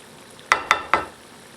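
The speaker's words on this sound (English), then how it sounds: "We're gonna let the alcohol boil." Alcohol cooks off in a pan of chicken marsala, heard as three quick, sharp sizzling bursts close up in a quiet kitchen.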